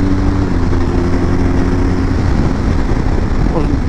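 A motorcycle engine pulling away smoothly in third gear at part throttle, a steady, loud low rumble running the whole time with no break or pause.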